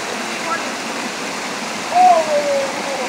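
River water rushes through a gorge in a loud, steady broadband roar, with a brief louder splash and a short vocal sound partway through.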